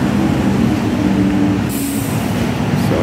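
Steady rumble and clatter of an MTR train running toward Mong Kok in Hong Kong, a continuous low rolling drone with a faint high hiss near the end, no talking.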